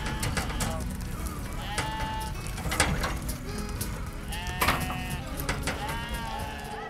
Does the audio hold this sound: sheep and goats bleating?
yes